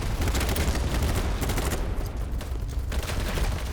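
Dense rapid gunfire in the video game BattleBit Remastered, overlapping automatic bursts and shots rattling loud and continuous throughout, no talking.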